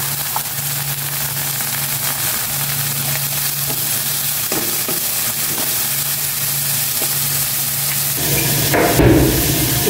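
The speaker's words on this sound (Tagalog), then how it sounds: "Gisa ko na itong ampalaya." Loud, continuous sizzle of bitter gourd (ampalaya) sautéing in a pan, with a few utensil knocks and a louder clatter near the end; nobody speaks.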